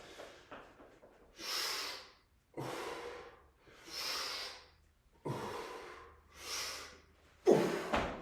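Heavy breaths during a youth golf workout rep, loud close inhales and forceful exhales alternating in a slow, regular rhythm with quiet gaps between.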